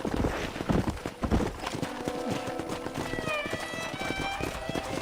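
Galloping horse hooves drum along in Red Dead Redemption, a continuous quick clip-clop with a neigh partway through, layered under voices and other game ambience.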